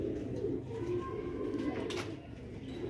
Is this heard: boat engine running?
no